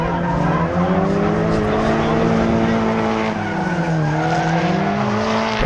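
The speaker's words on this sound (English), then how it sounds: "Here's Brad in the white BRZ" A white Subaru BRZ drifts through a drift competition run, its engine loud and sustained with rising and falling revs and tire squeal throughout, with speech faintly underneath.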